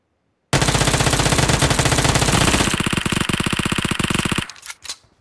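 M4 rifle firing in the video game PUBG Mobile: a long, loud burst of rapid automatic gunfire lasting several seconds, then a few scattered final shots and fading echoes.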